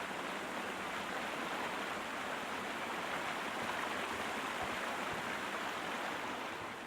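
Steady broadband rush of flowing water in Sherlock Holmes: Crimes and Punishments, even and continuous throughout with no speech over it.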